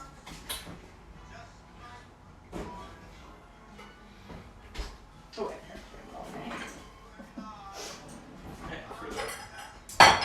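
A pan of flour comes out of the oven amid clinks and clatters of pans and utensils, with a door or drawer creaking and a final loud clank, while people talk nearby.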